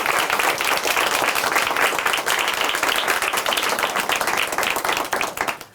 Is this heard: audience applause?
yes